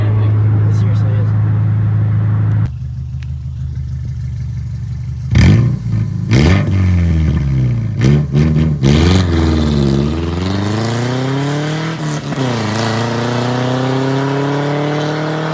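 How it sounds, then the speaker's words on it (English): A 2001 Subaru Outback Sport with catalytic converter and muffler deleted, its loud raw exhaust idling then revving hard in repeated sharp bursts with rising and falling engine tones, ending in a sustained climbing rev. "It's definitely a lot louder now."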